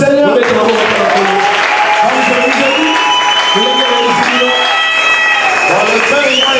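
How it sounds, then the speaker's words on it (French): A church congregation claps and shouts together during a sermon, steady dense applause mixed with loud voices and singing-like calls throughout. "Applaudissez pour le Seigneur."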